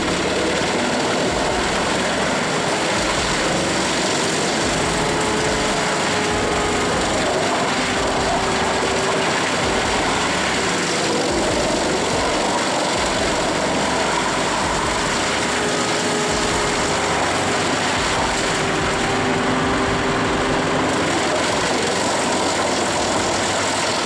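A Brooks 1006 PT scrap crushing machine driven by a Volvo FH16 engine runs steadily, a loud, dense mechanical roar and grinding rumble that holds unbroken throughout, with no voices.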